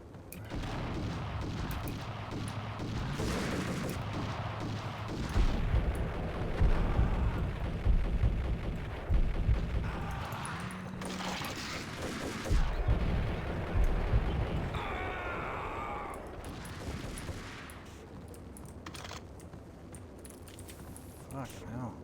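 Grenade explosions in the Max Payne video game, deep booms and rumbling blasts erupting repeatedly amid gunfire and background music, with someone talking over them.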